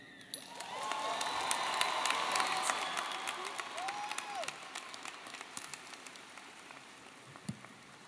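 Graduation audience for a high school class of 2025 applauding, a dense wash of clapping that swells within the first second, holds steady, then thins slightly toward the end, with scattered sharper claps and faint cheers.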